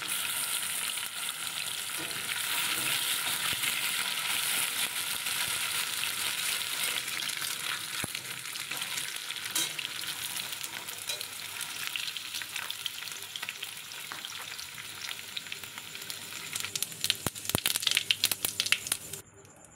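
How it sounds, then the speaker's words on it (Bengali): Taro pieces fry steadily in hot oil for a Bengali dish with snakehead fish, giving a continuous close crackling sizzle. Stirring and crinkling noises surface now and then, and the sizzle swells louder near the end. "এবার তেলের ওপরে কচুগুলো দিয়ে দিলাম। এই কচুটা একটু ভেজে নেব"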